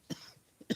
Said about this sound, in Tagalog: Sorry guys, inuubo lang ako.